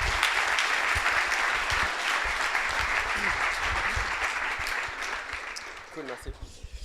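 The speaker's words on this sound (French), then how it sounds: "je vous demande vraiment de faire un tonnerre d'applaudissements" Loud, dense applause from a large audience at a talk fills the room steadily, then thins out into scattered claps near the end as a voice begins.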